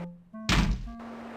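A single heavy bang rings out in the 1990 adventure game King's Quest 5, a close, sharp thump set between short sustained electronic tones.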